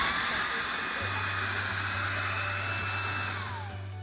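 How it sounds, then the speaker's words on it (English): A Makita 40V cordless dust blower runs close by with a steady high-pitched whine and airy rush. A low hum joins in after a second, and the sound drops off at the end. "today I'll share with you Makita 40-watt cordless dust blower"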